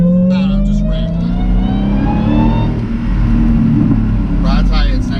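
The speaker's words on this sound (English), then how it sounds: "getting this Hellcat and the supercharger, woo! Whiny, whine to work." A 2017 Dodge Challenger Hellcat's supercharged engine revs loudly up close, its whining pitch climbing over a deep rumble before settling into a steady roar.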